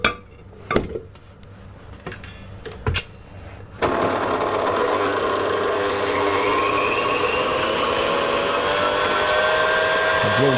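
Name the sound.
stand mixer running for pastry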